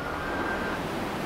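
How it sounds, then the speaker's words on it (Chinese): Rough sea waves surge in a coastal rock tunnel on Kinmen, a heavy, continuous roar of surf mixed with wind rumble that stays loud and even throughout, with no voices. "这边也有很汹涌的海浪的声音。"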